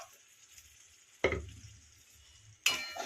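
Dal being stirred in a pot, heard as two brief bursts of spoon scraping and sloshing roughly a second apart, separated by near silence with only faint low rumble, close and quiet.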